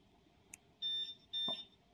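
A car alarm triggered with an RF code grabber gives two short, clear electronic beeps in quick succession, with a small click just before them, against quiet background hum.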